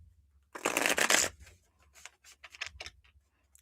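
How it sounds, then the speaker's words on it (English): A deck of cards being shuffled for a card reading: one dense riffling burst lasting under a second, followed by a series of lighter, scattered card taps and snaps, close and clear with no talking. "Give these a shuffle up."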